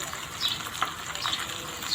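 Tandoori chicken frying in a pan on a stove at medium heat, giving a steady, hissing sizzle with faint crackles and spits throughout, heard close and alone.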